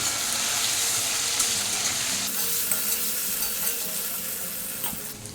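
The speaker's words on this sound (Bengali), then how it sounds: "একটু নুন দিচ্ছি একটু হলুদ দিলাম এবার এটা ভালো করে ভেজে নেব" Diced potatoes seasoned with salt and turmeric frying in hot oil while being stirred, a loud steady sizzle with scraping from the pan, close up and without voices.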